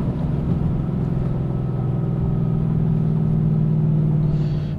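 A Chevrolet Camaro SS with an MRT Version 3 cat-back exhaust drives along, its exhaust giving a steady, deep, low droning rumble heard from inside the car at an even cruising pace, with no talking.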